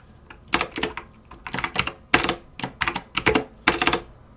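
Computer keyboard typing while coding a LeetCode problem, with quick irregular bursts of close, fairly loud keystrokes in clusters, alone with no talking.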